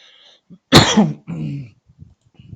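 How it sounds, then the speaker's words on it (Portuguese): A single close, harsh cough burst from an allergy, followed by a shorter throat-clearing rumble and faint rustling afterward. "eu tossi, mas não é corona, não. É só alergia mesmo"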